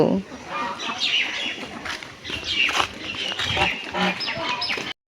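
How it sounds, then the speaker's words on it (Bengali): A two-year-old domestic goose about to be slaughtered at home honks and calls repeatedly and loudly nearby, mixed with other fowl noises and a person talking. "হাঁস জবাই হবে, হাঁস।"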